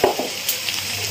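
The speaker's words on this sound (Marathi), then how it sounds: "आता याच्यामध्ये मी अद्रक लसूण पेस्ट घालते" Ginger garlic paste lands in browning onions for a mixed vegetable dish and sizzles with a sharp hiss at first, then settles into a steady frying crackle, close and alone.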